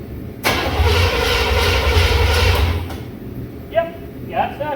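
A 1985 Chevrolet K10 pickup engine under rebuild cranks, catches and settles into a loud, steady idle close by for a couple of seconds before dropping away, with brief voices afterward.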